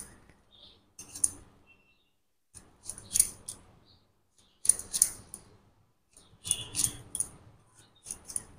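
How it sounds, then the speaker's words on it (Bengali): A knife slices through tender teasel gourds (kakrol) on a board, giving bursts of crisp crunching cuts in irregular clusters with short pauses between, close and fairly loud, with no talking. "এই যে সব কাঁকরোলগুলো আমি এইভাবে কেটে নেব।"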